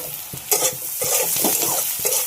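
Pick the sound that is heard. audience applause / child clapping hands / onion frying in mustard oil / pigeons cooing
onion frying in mustard oil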